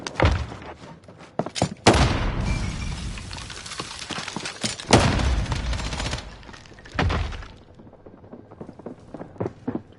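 Close, sharp gunshots in Call of Duty Warzone on the Fortune's Keep map, several loud cracks and short bursts scattered irregularly, with footsteps and thuds between them.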